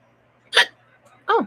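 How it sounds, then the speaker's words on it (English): Two hiccups a little under a second apart, close and fairly loud, the second a sharper voiced yelp, with quiet room background between them. "Oh, hiccups."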